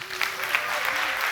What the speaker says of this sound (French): Faites un tonnerre d'applaudissements pour la Bandagio.